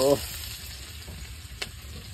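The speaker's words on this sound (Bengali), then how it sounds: "আর এখন আমি এই গার্লিকগুলো, দেখো গার্লিক চপগুলো ছেড়ে দেবো।" Chopped garlic hits hot oil in a pan with a brief burst, then settles into a steady, close sizzle of frying with light stirring noises and no talk.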